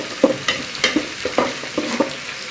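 Ginger, garlic and onion paste frying with chicken in a pan sizzles beneath a brisk, regular rhythm of spatula scrapes and knocks, about eight strokes in quick succession, close and fairly loud.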